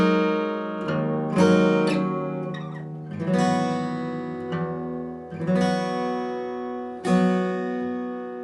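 An electric guitar slowly plays a song intro phrase, with strummed chords and ringing single notes arriving in separate bursts that each sustain and fade, close and clear with no talking.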